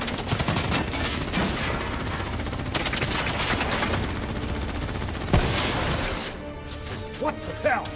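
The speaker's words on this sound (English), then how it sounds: "Who's shooting?" Dense gunfire and bursts from a Black Ops 3 single-player campaign firefight, sustained shooting with sharp cracks and impacts throughout, a loud hit near the middle, combat voices shouting over the din.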